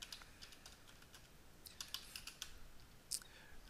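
Typing on a computer keyboard during an ownCloud 7 install on an Ubuntu 14 server, a run of quiet, irregular key clicks that grows busier toward the end, with a sharper clack near the finish.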